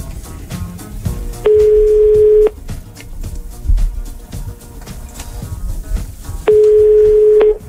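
A telephone dialing out from a morning radio show studio to call a listener, with rapid touch-tone beeps followed by two long, loud, steady ringback tones separated by a pause.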